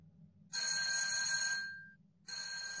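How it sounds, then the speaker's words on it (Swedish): A telephone rings in a New York apartment, two electronic trilling bursts separated by a short pause, clear and fairly close over a low background hum. "Telefonen ringer hemma i Bruce Buena de Mesquitas lägenhet i New York."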